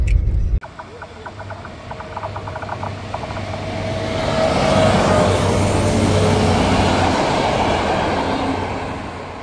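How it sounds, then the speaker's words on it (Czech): A train passes near a seaside spot on the Polish coast, its low rumble and clatter swelling into a broad, steady roar that fills the second half. "tamhle jezdí vlak"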